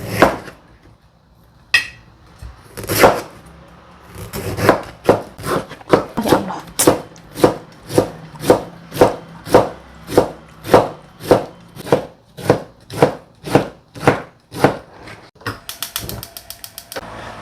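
A knife chops a banana blossom into thin slices on a board, making a quick run of sharp, evenly spaced knocks, close and alone, after a few scattered cuts at the start.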